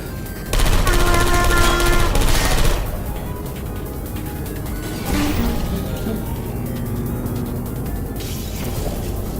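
Bursts of rapid automatic turret fire rattle through a Portal 2 game level, one loud volley, then a pause and a second sustained burst, with faint voices in the background.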